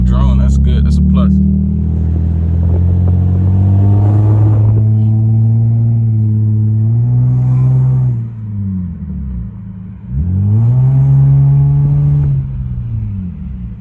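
A Lexus GS300 with catless headers, a Magnaflow midpipe and a Vibrant muffler on a single-exit exhaust, heard while driving: a loud, deep, steady exhaust drone that rises and falls through two revving pulls.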